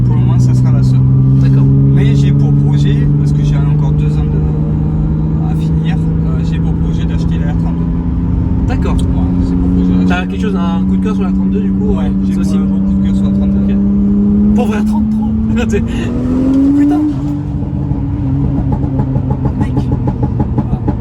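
A 430-horsepower Nissan Skyline R34 GT-R engine runs loud and close, its tone climbing steadily in a long rev that peaks and drops near the end, with a man briefly exclaiming over it.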